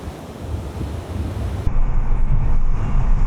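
Sea waves breaking on the white cliffs of the Scala in Sicily, a loud rushing surf mixed with heavy wind buffeting the microphone, swelling louder partway through and staying dense and continuous.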